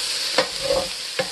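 Cabbage fries in butter in a pan, giving a steady, close sizzle with a few soft stirring scrapes and no voices.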